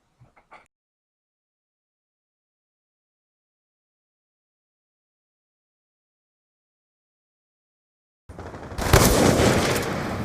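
Gunfire in the Black Ops II video game, one brief faint crack at the start, then a long silence, then a loud, dense burst of rapid shots near the end.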